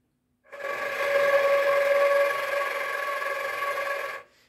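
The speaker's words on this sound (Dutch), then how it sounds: "Dus we blazen eigenlijk even over de fluit heen." Air is blown across a flute in playing position, producing a steady, breathy, whistling tone that starts abruptly, holds for about four seconds at even loudness, then cuts off.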